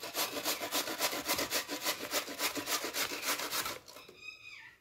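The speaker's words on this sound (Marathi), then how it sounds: "बटाटे किसून देत आहे मला साबुदाण्यामध्ये टाकायला" Potatoes being grated by hand on a grater, a loud close rhythmic rasping of quick regular strokes for about four seconds, then stopping with faint kitchen handling afterward.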